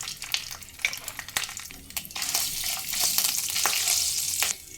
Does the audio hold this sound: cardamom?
yes